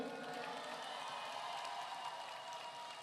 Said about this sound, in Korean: 힘드니까 크게 박수 한번 쳐주세요